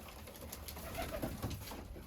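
Pigeons coo softly in a loft, several low gurgling calls overlapping against a faint steady background.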